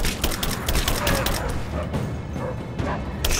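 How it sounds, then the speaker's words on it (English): Gunfire in Rise of the Tomb Raider during a dark night encounter with wolves, several sharp broadband shots cracking out in an irregular cluster over constant ambient game noise. "Shooting in the dark."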